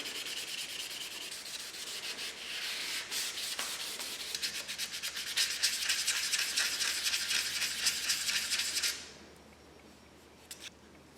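The edge of a 1968 Mustang hood is sanded by hand before base coat, giving a close, continuous rasping rub with rhythmic strokes that grows busier. It stops abruptly near the end, leaving quiet with a couple of faint taps.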